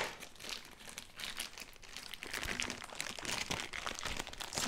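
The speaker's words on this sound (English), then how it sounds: "Okay, so we'll just cut it open." Packaging of a Philips LatteGo 5400 series coffee machine is cut open, with continuous close crinkling and crunching of plastic and cardboard, quiet and busy throughout.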